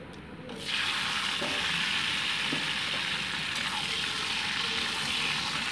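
Pre-fried vegetables drop into hot oil with panch phoron for dudh shukto, and a loud, steady sizzle starts almost at once, then hisses on evenly close by.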